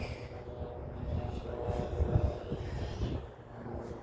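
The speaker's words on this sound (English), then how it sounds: "Helicopter." Helicopter flying overhead during a morning walk, a low rumbling drone that swells and fades, moderately distant, with a voice briefly speaking over it.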